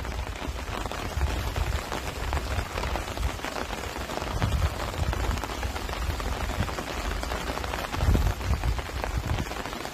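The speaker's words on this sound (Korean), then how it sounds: "여러분 빗소리 듣기 좋죠?" Steady rain falls across the whole stretch in a countryside valley, a dense patter of drops on surfaces with a few louder splashes, no voices.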